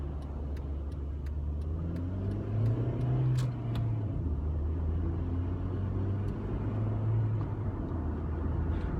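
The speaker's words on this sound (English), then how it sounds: "A lot of traffic around" Car engine accelerating through rush-hour traffic, a steady low rumble of road and engine noise rising and falling with the revs, heard from inside the vehicle with no talking.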